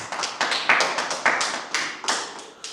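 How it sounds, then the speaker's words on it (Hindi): Audience clapping to welcome a poet onto the stage at a Hindi comic poetry gathering: brisk, steady applause from a modest crowd, moderately close, with no talk over it. "एक बार जोरदार तालियों से उनका स्वागत कीजिए"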